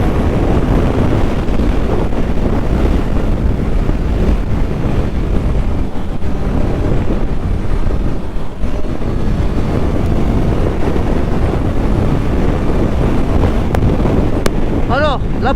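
Heavy, constant wind buffeting roars over the mic of a Honda CBR650R motorcycle at highway speed, loud and unbroken throughout with no pauses.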